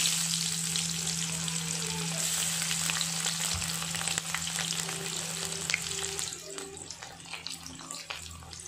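Onions fry in oil with curry leaves in a pan for a crab curry, giving a steady close sizzle with faint scraping stirs and soft clinks, continuous throughout with no talking.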